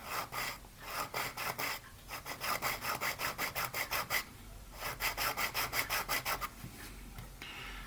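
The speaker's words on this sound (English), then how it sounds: "take my medium sanding stick here and just sort of try and take some of that paint off" Rhythmic back-and-forth strokes of a medium sanding stick rasp paint off a model ship in quick bursts, with brief pauses between sets, close and fairly loud.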